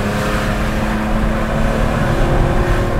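BMW M3 E46 taking corners, its engine droning loud and close in a steady, slightly wavering tone for a few seconds with no talk.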